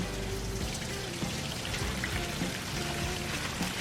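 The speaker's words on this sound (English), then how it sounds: "Alright, I see some water pouring out." Water pours steadily from a 1-inch hose driven by a pond pump while a 220-gallon cichlid aquarium is drained, a continuous near splashing rush with a low gurgle underneath and no voices.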